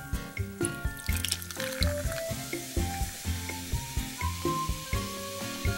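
A 500 ml can of Kirin Tanrei Platinum Double, a purine-free low-malt beer, is poured into a glass with a steady gurgling stream and a rising fizz as the glass fills, close up.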